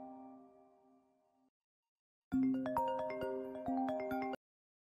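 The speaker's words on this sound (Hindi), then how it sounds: "किसका फोन है?" A mobile phone ringtone plays a melodic electronic tune. It sounds once, fades, goes silent, then a second louder ring of bright tonal notes comes back, alone, with no voices.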